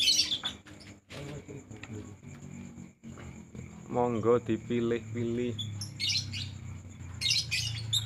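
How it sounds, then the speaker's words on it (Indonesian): Lovebirds kept in a bird market cage chirp and tweet in bursts, high and busy, alongside a steady low hum and people talking close by. "burung lovebed."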